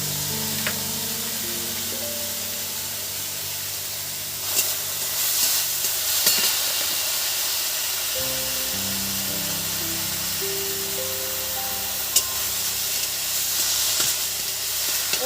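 Steady sizzling of flowers frying in hot oil, continuous and close, with occasional clinks of a utensil stirring the pan.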